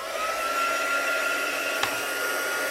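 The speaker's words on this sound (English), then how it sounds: "I'm going to bring in my heat tool now." A steady whirring blast of hot air from a small electric heat embossing tool, constant and fairly close, with a brief click partway through.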